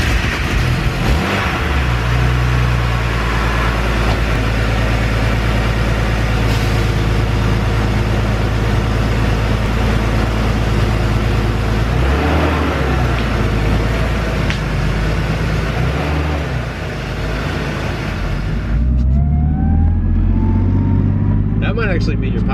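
A turbocharged BMW 325ic E36 convertible drives along with a constant, loud engine drone heard from inside the car. The pitch climbs as it accelerates near the end.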